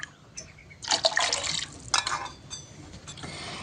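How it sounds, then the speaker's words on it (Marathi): Water splashes and trickles in short bursts into a pot of spinach, with brief pauses between pours; close and fairly quiet, no talking. "थोडंसं पाणी घालून घ्यायचं आहे"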